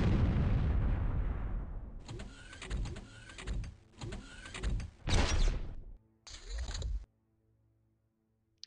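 Bolter gunfire in the OpenXcom Warhammer 40k mod video game: a low rumble gives way to several separate bursts of rapid, crackling shots, fairly loud and close, with short gaps between volleys before silence.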